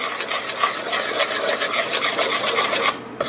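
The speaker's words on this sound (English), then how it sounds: "I'm just going to use a spoon so I can mix at a normal speed" A spoon stirring milk in a bowl makes a steady, rapid scraping and swishing rhythm, close and fairly loud throughout, with no voices.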